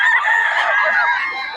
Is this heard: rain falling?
no